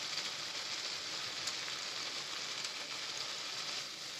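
Turmeric powder going into ginger-garlic paste frying in a pan, giving a steady faint sizzle that stays even throughout with no talking.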